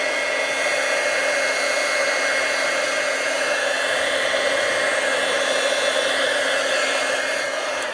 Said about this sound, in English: So before I start watercoloring, I'm going to dry it with my heat gun.